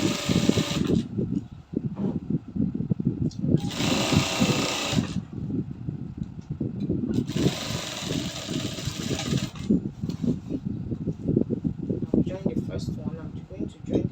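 A sewing machine runs in quick rhythmic bursts while stitching the shoulder seams of a bubu kaftan, its steady whirring loud and close, with a person talking over much of it.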